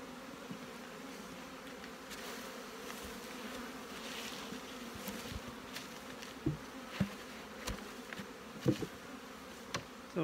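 Honey bees buzz around a hive in a bee yard in a steady, moderately loud drone, with occasional soft bumps and clicks nearby.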